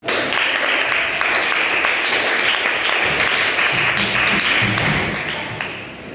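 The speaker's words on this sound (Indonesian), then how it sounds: "Tepuk tangan buat Aslan." A classroom of students bursts into sustained, loud applause for a classmate, dense clapping filling the room steadily for about six seconds before easing slightly at the end.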